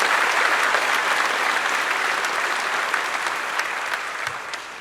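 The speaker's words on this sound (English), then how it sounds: "Let's clap about that." Dense, sustained applause from a large audience at a medical school commencement ceremony, steady and full throughout, slowly tapering near the end with no one speaking over it.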